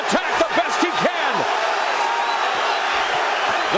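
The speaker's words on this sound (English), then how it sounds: "The crowd here on fuego" Boxing crowd at the Angulo versus Lara fight, a steady roar of cheering and whoops filling the arena beneath an announcer's voice.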